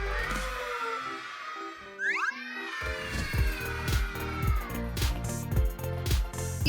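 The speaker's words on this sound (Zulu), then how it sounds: "Ikati lami, ikati lami" A cat gives a few drawn-out meows over a bouncy background music track, fairly close and clear.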